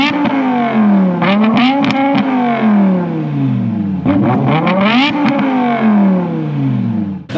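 Loud, close acceleration from a 2008 BMW E60 M5 V10: two hard pulls, each with a sharply rising wail, split by a brief gearshift dip and crackling bursts, with no talking.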